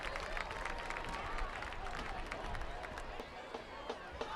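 A football stadium crowd at a high school game applauds, broad and somewhat distant clapping mixed with crowd noise and scattered voices.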